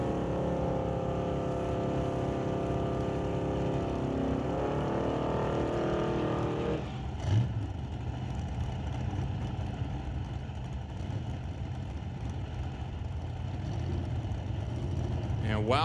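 A drag race car idles and burbles at a distance as it makes a slow cruise down the track at an eliminations event, a steady low engine rumble with a brief burst midway, heard under loud crowd and track ambience.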